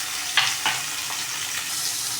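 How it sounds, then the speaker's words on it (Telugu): Green chillies and onion fry in hot oil over tempering spices for an onion ridge gourd curry, a steady soft sizzle with a few brief louder crackles and stirring scrapes, no voices. "ఇప్పుడు ఇది మంచి గోల్డెన్ కలర్ వచ్చే వరకు మనం ఫ్రై చేసుకోవాలి."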